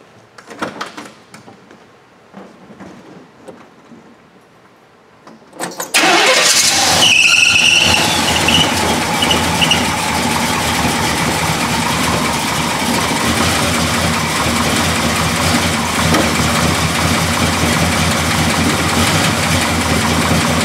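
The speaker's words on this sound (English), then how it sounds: "we're going to fire up the engine in our 1969 Malibu here that we have" A 1969 Chevelle Malibu with a 350 crate motor cranks and fires after a few quiet seconds of faint handling noise, then settles into a loud, steady, close-up idle that runs without interruption.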